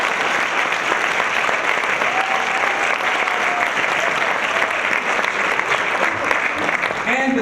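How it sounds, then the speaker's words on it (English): Sustained audience applause fills a hall at a Hillary Clinton campaign event in Harlem, a dense steady clatter of many hands lasting throughout, with a few faint whoops near the end. "That deserves an applause."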